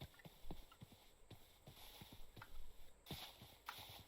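Horse hooves clip-clop in a homestead survival video game, a quiet irregular series of sharp knocks at a walking pace over faint ambient background, with no talking.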